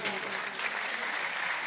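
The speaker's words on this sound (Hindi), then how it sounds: "एक बार जा ताली बजा दीजिए आप लोग" An audience applauds at an Uttarakhand poetry festival, a steady wash of clapping from many hands heard briefly and at moderate distance.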